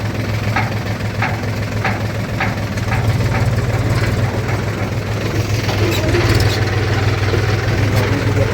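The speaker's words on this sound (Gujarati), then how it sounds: "મોબાઈલ હલશે ટ્રેક્ટર ચાલુ હો." A tractor engine runs at a construction worksite in Gift City, close and steady. It throbs continuously with faint rhythmic ticking and no pauses.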